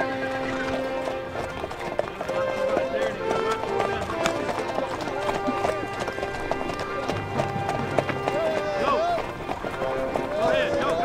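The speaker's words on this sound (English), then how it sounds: "participate in the jingle as horses head out from the barn for their night's pasture" Ranch horses leaving the barn for night pasture at a Colorado guest ranch clatter in a dense, continuous run of hoofbeats with jingling tack, an occasional whinny, and a person calling out over the herd.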